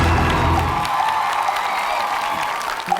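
A studio audience on the debate show Qipa Shuo claps and cheers, a dense wash of applause that thins after the first second and carries on more softly to the end.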